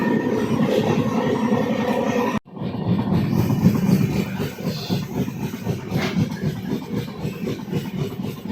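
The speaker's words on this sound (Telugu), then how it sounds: "134 కిలోమీటర్స్ వేగంతో వెళ్ళిపోతుంది. తుని అన్నవరం మధ్య తిరుమల ఎక్స్ప్రెస్." Tirumala Express passenger train rushing past at about 134 km/h between Tuni and Annavaram, a loud, steady roar of wheels and rail clatter that holds throughout, broken by one brief dropout near the start.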